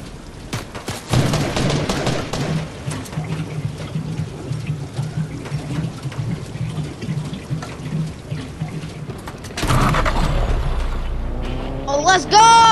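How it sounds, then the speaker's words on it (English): Video game gunfire crackles in rapid bursts over busy game noise, loud and close, with a heavier surge of sound near the end. "There's somebody shooting at me."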